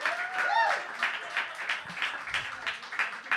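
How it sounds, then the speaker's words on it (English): A live audience on a ship applauds a high school theater teacher, scattered clapping and cheers rising and falling, mixed with voices and a whoop. "huge round of applause for a not creepy high school theater teacher"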